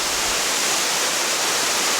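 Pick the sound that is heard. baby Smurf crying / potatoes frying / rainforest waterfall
rainforest waterfall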